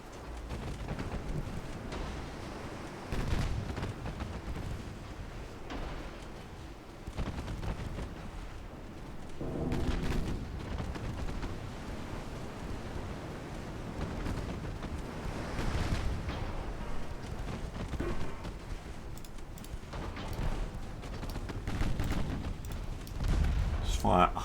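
Naval guns firing high-explosive shells in a British naval campaign video game, heavy booming blasts recurring at irregular intervals over a dense rumbling wash, with a voice talking throughout.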